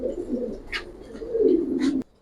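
Giribaz pigeons, an old breed, coo softly and close by in low, rolling murmurs that swell toward the end before stopping abruptly.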